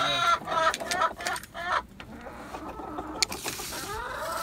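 Several backyard hens cluck and cackle close by in a busy, overlapping chorus, with bursts of squawking and no talk.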